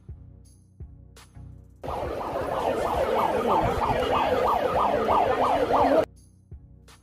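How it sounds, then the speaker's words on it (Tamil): An ambulance siren plays from a loudspeaker carried by a person walking past at the Pinnawala elephant orphanage. It wails in a rapid rising-falling pattern for about four seconds, loud and close, then cuts off abruptly, with quieter ambient sounds before and after. "இப்போ நீங்கள் ஒரு ஆம்புலன்ஸுட சைரன் சத்தத்தை கேட்டிருப்பீங்க."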